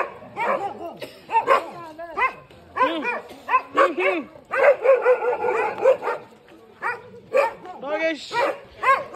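Several dogs bark and yip in bursts near Tulja Bhavani temple in Tuljapur, close and loud, with whimpering mixed in and people talking among the barks.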